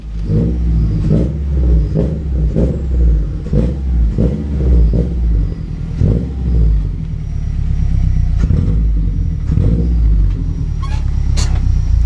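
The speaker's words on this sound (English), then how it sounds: "that was my car just backing in" A Subaru WRX engine idles and rumbles nearby while the car backs up slowly, with a series of short repeated tones sounding over the low drone.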